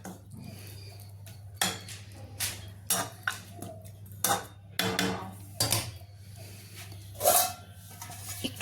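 A ladle stirs dudh shukto, a coconut-milk vegetable curry, in a pot, producing a series of close clinks and scrapes against the metal over a low steady hum.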